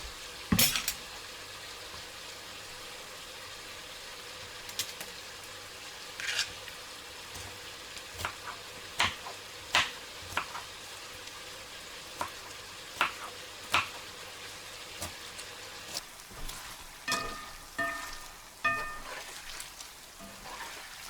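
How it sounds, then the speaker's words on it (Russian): Meat searing in a kazan for Uzbek mashkichiri, a steady broad sizzle throughout with scattered clinks and scrapes of a utensil against the pot, close and fairly quiet. "Мясо обжарила."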